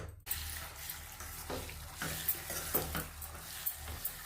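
Tomato pickle made without onion or garlic cooks in oil on a stove, a quiet bubbling sizzle broken by several soft stirring scrapes and knocks at irregular intervals, with no speech.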